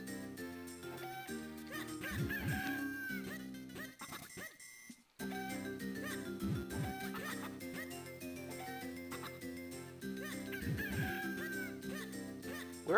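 Chickens from The Legend of Zelda: The Minish Cap, heard as repeated honking, clucking game squawks in short bursts over a steady looping game soundtrack, with a brief silent gap midway.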